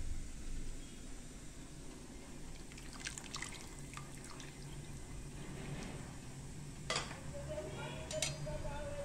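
Tamarind pulp poured into simmering sambar in a pot, faint liquid drips and splashes with light clinks of a utensil against the vessel, quiet and close.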